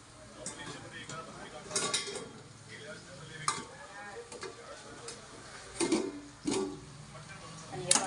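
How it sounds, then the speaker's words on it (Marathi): Utensil scraping and stirring a brinjal curry in a pan, with intermittent clinks of a spoon against metal and a faint sizzle underneath; a voice is heard briefly. "वांग्याची भाजी हलवून घेते"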